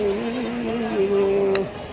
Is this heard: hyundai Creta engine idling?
no